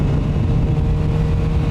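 QJMotor SRK 921 four-cylinder naked motorcycle, a 921 cc engine with 126 horsepower, idling or cruising with a loud, steady low rumble and even hum throughout, no talking.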